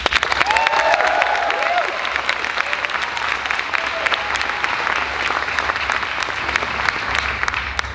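Sustained audience applause welcoming a keynote speaker at a high school graduation ceremony, dense steady clapping from a large crowd that holds strongly for the whole stretch, with a few brief voices rising over it early on.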